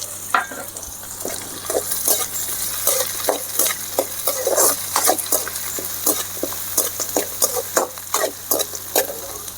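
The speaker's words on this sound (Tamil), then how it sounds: "கருவேப்பில் அதையும் போட்டுக்கலாம் பச்சை மிளகா அதையும் போட்டுக்கலாம்" Curry leaves and green chillies frying in ghee for mutton ghee roast, a bright sizzle under brisk, rhythmic stirring with frequent spoon clinks and scrapes on the pan, close up, no voices.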